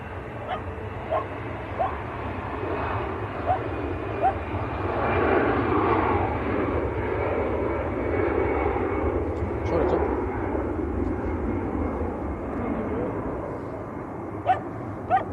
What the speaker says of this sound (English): This is EasyJet to Geneva